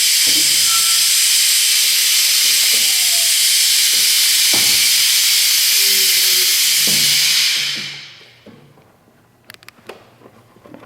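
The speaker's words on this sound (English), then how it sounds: "now we're going to lower the table down" A workshop lift table lowered beneath a 2015 Suzuki GSX-R600 sportbike, a loud steady air hiss that runs for several seconds and then cuts off, followed by quiet scattered clicks and taps.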